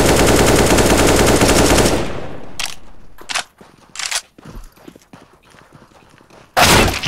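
Gunfire in the video game PUBG: a loud sustained burst of rapid automatic fire, then sparse scattered single shots and a final short loud burst.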